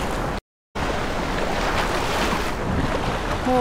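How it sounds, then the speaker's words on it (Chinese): Strong wind and crashing ocean surf at Denmark's northern tip, where two seas meet, a steady, loud roar of wind buffeting the microphone over breaking waves, with a brief dropout near the start. "现在就感觉到风浪的这个强度了，但是觉得好酷啊！"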